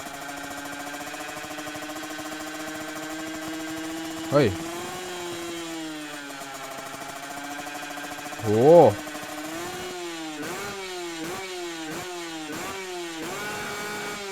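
In GTA San Andreas, a modified Toyota Revo pickup idles with a steady engine hum, then gives a string of quick, rhythmic throttle blips. A man exclaims briefly twice over the engine.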